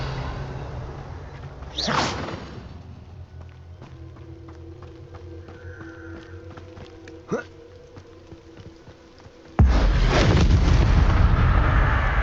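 Confringo, a fiery blasting spell in the Hogwarts Legacy video game, goes off as a sharp whooshing burst early on, followed by a quieter rumbling stretch with a small crack, then a loud, sustained roaring blast toward the end.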